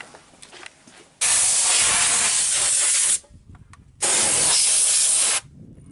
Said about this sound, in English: blast a little air on it to get rid of all the water